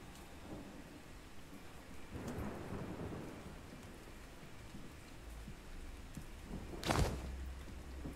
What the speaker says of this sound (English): Oh, it's raining now. I love the rain.